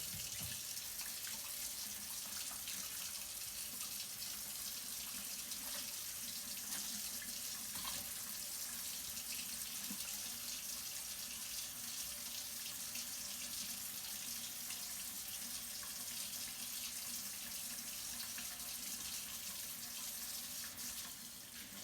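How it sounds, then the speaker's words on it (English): Hands are washed with soap under running tap water, with a steady, even rush of water from a faucet into a sink, constant and fairly faint throughout with no voices. "you're gonna take your dial hand soap and wash your hands for 30 seconds"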